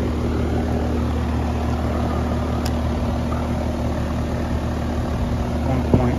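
An electric motor on an HVAC unit running during an amp draw test, a constant steady hum with a low tonal drone and no variation.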